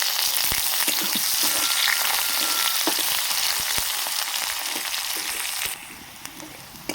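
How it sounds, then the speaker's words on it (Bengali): Chopped onion sizzles in hot oil with whole cumin, dried red chillies and a bay leaf, a loud, close, crackling fry with occasional stirring clicks that drops in level near the end; no one speaks. "পেঁয়াজটা লাল লাল করে ভাজা হয়ে গেছে।"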